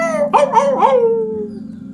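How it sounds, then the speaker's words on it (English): A neighborhood dog howls at the moon as if in pain: one long, wavering, mournful howl that slides downward and trails off, fairly close and clear with no talk over it. "hears that same dog howling out to the moon like it's in pain"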